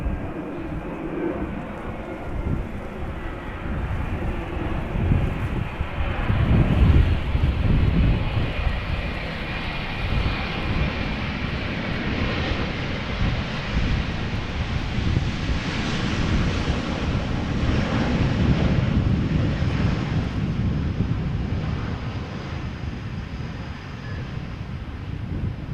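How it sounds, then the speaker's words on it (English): A 24-year-old United Airlines Boeing 777-200 arriving at Amsterdam Schiphol in gusty crosswinds, its engines a loud sustained jet roar that swells and shifts pitch as it passes, mixed with wind buffeting on the microphone. "This is United Airlines flight 20, Boeing 777-200, arriving from Houston, Texas, 8 hours and 35 minutes underway."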